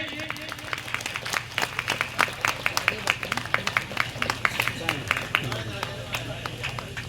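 Dense crowd applause with sharp individual claps throughout at a political welcome ceremony, while a voice speaks over a loudspeaker.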